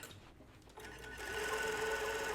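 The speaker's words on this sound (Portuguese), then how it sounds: "E dou sequência na costura até chegar aqui do outro lado." Sewing machine stitching a bra, starting after a brief pause and then running in a steady, close, continuous whir that grows slightly louder, with no voices.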